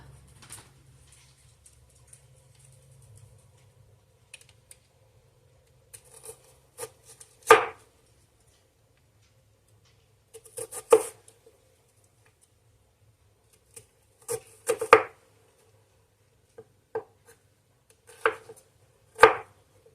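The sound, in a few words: slicing an onion thinly with a knife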